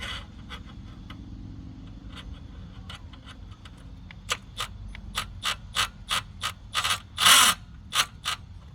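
Ratchet wrench loosening a bolt on a Kawasaki Eliminator 250 motorcycle: sparse faint clicks, then a run of sharp, close ratcheting pulls in quick bursts, with a louder rasp near the end.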